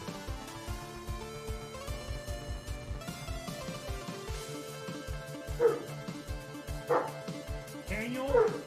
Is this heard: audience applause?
no